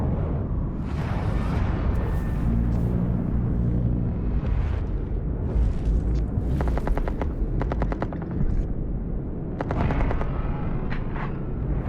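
Rapid machine-gun bursts and sharp shots from Rainbow Six Siege gameplay, loud and dense, with repeated rattling volleys layered over a constant roar of in-game action.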